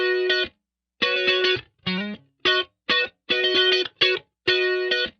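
An electric guitar with a bright, shrill tone plays through a stereo chorus amp effect in short, choppy strummed chords, about eight punchy bursts separated by clean silences, loud and up close.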